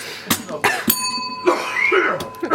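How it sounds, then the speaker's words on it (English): A ringing bell with a sustained tonal ring that lingers between coughs and throat clearing, loud and close, with brief voice sounds around it. "Oh, that bell really hurts me."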